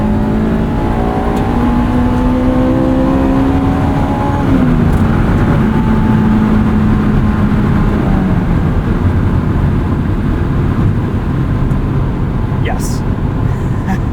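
A Honda S2000 engine revs hard toward its 9,000 RPM redline with VTEC engaged, a loud, sustained rising wail with a shift-like dip partway through, heard close from inside the car.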